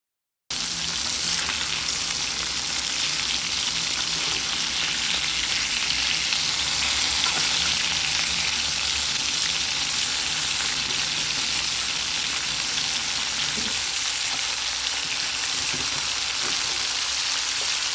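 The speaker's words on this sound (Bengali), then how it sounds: "এরপর এক এক করে মাছটাকে ভেজে তুলে নিব। আমি মাছগুলোকে একটু কড়া করে ভেজে নেব।" Small mola fish fry crisp in hot oil in a pan, giving a dense, steady sizzle that carries on loudly and evenly throughout, with a brief stir near the end.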